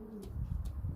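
Young pigeons, including a pied bird from a first auction lot, coo softly at close range in a loft, with low rhythmic throaty coos repeating under faint background noise and a couple of brief higher chirps.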